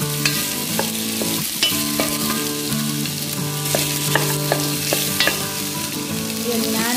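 Onion and vegetables sauté in a pan for fish sinigang, with steady sizzling and frequent scraping, stirring clicks running throughout, close and fairly loud, no talking.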